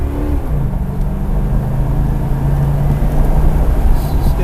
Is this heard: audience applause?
no